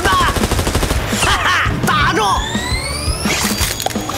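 Rapid bursts of gunfire with impacts and crashes fill an animated Chinese fantasy series scene, loud and close, with a voice speaking over the shooting.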